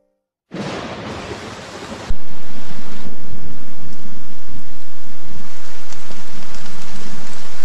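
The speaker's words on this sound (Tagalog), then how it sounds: "Binibini, ang lakas ng ulan." Heavy rain pours down in a dense, loud roar after a brief quieter start, then surges even louder and stays constant, with low rumbling throughout.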